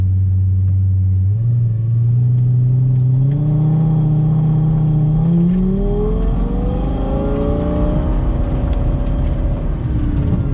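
A manual-transmission car engine revs up from idle and climbs steadily through the gears, its pitch rising with each shift. Close and loud, with no talking.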